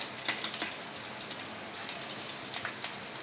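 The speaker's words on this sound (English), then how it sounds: "First of all, I am going to add my chopped garlic." Chopped garlic fries in hot oil in a pan, giving a soft, steady sizzle dotted with faint pops and crackles.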